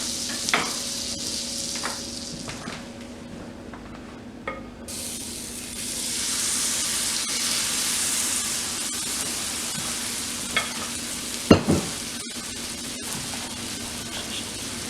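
A crepe cooks in butter in a pan, giving a soft sizzle that swells into a steady hiss of frying, with a few faint clicks and a louder clatter near the end; no one speaks.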